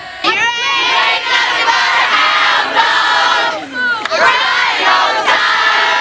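A large crowd sings songs together outdoors at a restaurant opening in Memphis, many voices blending into a loud, continuous chant that rises and dips for several seconds.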